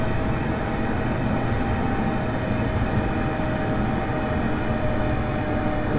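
ScotRail Class 385 electric train in Train Simulator slowing for a station stop, a steady loud rumbling drone of running gear and motors with a faint whine, continuous throughout with no voices.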